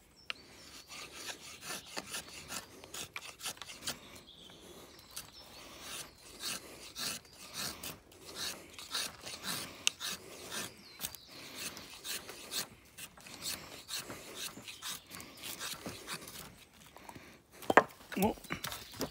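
A knife carves shavings from wood in a bushcraft setting, giving repeated quiet rasping scrapes in uneven strokes, close by, with a sharper crack near the end and soft talk now and then.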